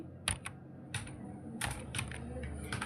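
Close, fast clicks of a computer keyboard being typed on while writing CSS in HTML, irregular bursts of sharp keystrokes with a few heavier presses like the Enter key.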